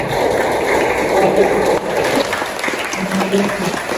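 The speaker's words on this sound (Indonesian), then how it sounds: "Iya, tepuk tangan dulu makanya" Loud applause from a university lecture room full of people, with scattered voices faintly audible beneath the clapping.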